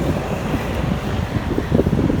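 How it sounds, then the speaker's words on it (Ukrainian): Strong wind buffets the microphone in a constant low roar, with gusty surges that swell louder near the end. "ще і вітряно, мабуть, ви чуєте, тому що вітер дує"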